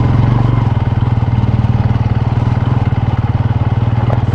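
Motorcycle engine labouring hard on a rough off-road trail, a loud, steady low throb with rapid regular pulsing and some rattling clatter, close and continuous throughout.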